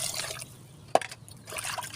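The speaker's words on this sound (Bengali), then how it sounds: "পানি দিয়ে দিলাম" Water is poured onto fish in a clay pot, a close trickling and splashing with one sharp splash in the middle, then a fuller pour at the end.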